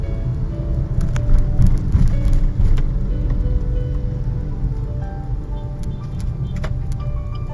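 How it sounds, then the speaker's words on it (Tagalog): Busy street traffic in a crowded market district, a steady roar of many vehicles passing close by with occasional louder swells and no speech heard. "Daming sasakyan."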